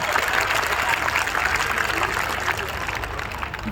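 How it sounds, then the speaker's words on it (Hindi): Audience applause at a Hindi poetry recital, a steady, dense wash of clapping that holds for the whole stretch at a fairly even level, with speech-like sound mixed into the crowd noise. "एक बार वापस तालियां उठाइए"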